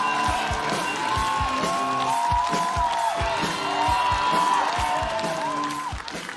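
A studio audience at a stage comedy show applauds and cheers to welcome a performer. The loud, dense clapping and crowd noise is sustained throughout, with music playing underneath.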